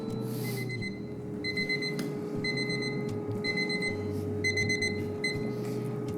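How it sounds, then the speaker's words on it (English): A kitchen timer alarm rings steadily for the full stretch, a repeating electronic beeping pattern over a low hum of an air fryer running nearby, with no talking. "the second 10-minute timer just went off"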